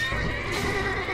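A horse in Mount & Blade Warband gives a loud, close whinny, its wavering high-pitched neigh filling the short moment alone.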